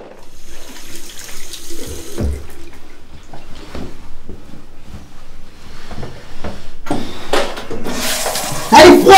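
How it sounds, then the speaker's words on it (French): Cold shower water running in a home, with a hiss of spray and splashing that grows louder near the end, mixed with scattered clatter and brief voices. "maintenant, une bonne douche froide"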